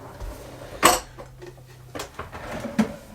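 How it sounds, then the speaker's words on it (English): Silverware rattles and clinks in a kitchen drawer of a vintage Airstream trailer, one sharp metallic jangle followed by a few lighter clinks, close and without speech. "This side contains silverware."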